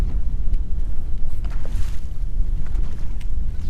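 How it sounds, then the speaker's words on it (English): Gusty wind buffets the microphone on a lake during bass fishing, a steady low rumble with faint water lapping around the boat, no voices. "But it's getting windy."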